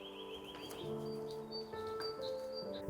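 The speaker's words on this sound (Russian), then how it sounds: "пение птиц очень активно" Wild birds chirp and whistle around a house in the forest, faint and somewhat distant, with short tweets and calls over a quiet outdoor background.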